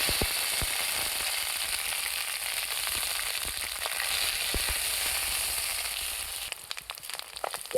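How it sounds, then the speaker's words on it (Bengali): Onion paste browning in hot oil with whole garam masala and a bay leaf, a continuous crackling sizzle with scattered pops and a few stirring clicks toward the end. "পেঁয়াজটা লাল লাল করে ভেজে নিয়েছি।"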